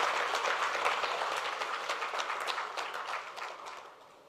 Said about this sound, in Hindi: तो एक बार इस टीम के लिए तालियां।